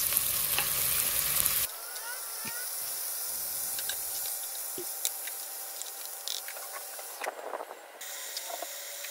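Pork ribs sizzle in a hot pan with sautéed onion and tomato for sinigang: a loud, steady frying hiss with occasional stirring scrapes, close up and without speech.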